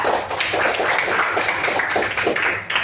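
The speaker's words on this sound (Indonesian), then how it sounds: "tepuk tangan untuk teman kita" A classroom of students applauds a classmate, a dense, steady patter of many hands clapping close by with little pause, carrying on for a few seconds.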